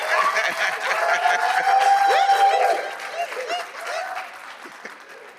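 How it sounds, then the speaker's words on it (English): A concert audience applauds a string quartet, with broad sustained clapping that swells then thins toward the end, while faint voices and a chuckle come through underneath. "Please feel free to clap for that again."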